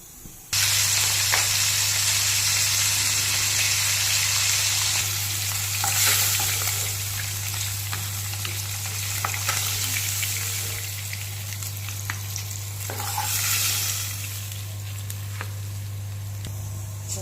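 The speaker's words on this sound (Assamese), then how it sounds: "মই এইপিনে মাছৰ মূৰ দুডোখৰ আৰু ফিছা পাতে ফ্ৰাই কৰি লওঁ।" Fish head pieces and fish fry in hot oil with a loud, steady crackling sizzle from the start, spitting and popping in bursts, a constant low hum beneath, no voices.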